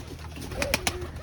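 A flock of pigeons coos softly at close range, with a few short sharp flutters or calls in quick succession over a steady low background rumble.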